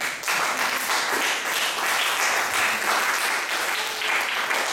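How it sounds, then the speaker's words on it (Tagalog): A congregation at a church service applauds together, a dense, steady wash of many hands clapping that runs loud and continuous from start to finish with no talk over it. "Kalimutan niyo atang pumalakpak."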